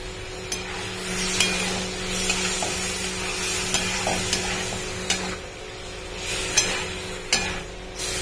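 Prawns tipped into a hot pan already seasoned with sugar and garam masala, sizzling steadily under a few sharp clicks and scrapes of stirring, close and moderately loud, with no talk.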